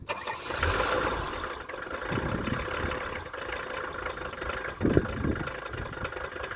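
A 1976 Mercedes 300D diesel engine cranks and catches, then settles into a steady, loud, close clatter with a brief louder surge near the end.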